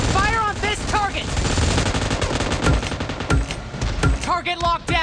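Gunfire in PUBG Mobile: rapid, loud bursts of automatic fire crackle close by in dense volleys, with brief chirping game sounds in between.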